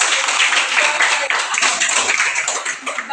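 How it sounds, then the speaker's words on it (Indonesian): A classroom of students gives Noel a round of applause, a dense wash of clapping hands filling the room steadily for a few seconds, with some voices mixed in. "tepuk tangan untuk Noel"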